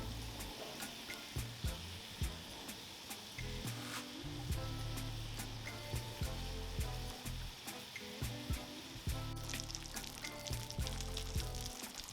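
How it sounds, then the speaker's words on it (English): Salisbury steak patties sizzle and fry in a cast iron pan with a steady, close crackle and spitting pops throughout, no voices over it. "Let's go ahead and get these patties on the cast iron."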